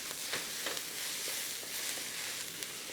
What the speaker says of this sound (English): don't chop your spatula into the rice